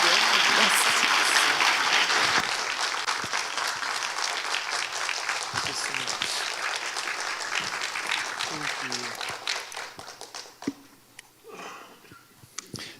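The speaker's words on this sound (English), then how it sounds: "Please welcome him with a warm round of applause." An audience at the World Meditation Day event applauds to welcome a speaker, with dense sustained clapping for several seconds that gradually thins and fades toward the end.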